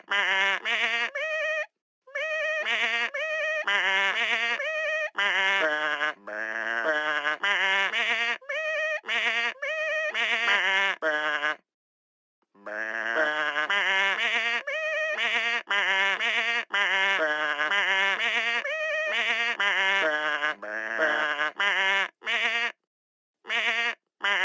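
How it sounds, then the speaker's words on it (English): Cartoon sheep in the Hey Duggee music game bleat in a rapid run of tuned, melodic calls, loud and close, broken by a few brief silences. "Let's try and make music by playing the sheep."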